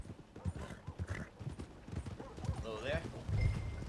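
Horse hooves clip-clop in Red Dead Redemption 2, a steady walking rhythm under a voice, with a brief whinny and faint ambient game sounds nearby.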